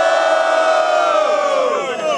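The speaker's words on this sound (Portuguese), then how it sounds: "Quem gostou das rimas do Magno faz muito barulho" Loud crowd cheering and shouting at a student rap battle in Guarulhos, a dense, continuous roar of voices and whoops filling the space, close and sustained throughout.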